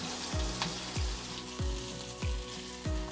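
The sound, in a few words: green chillies roasting and stirred in a kadhai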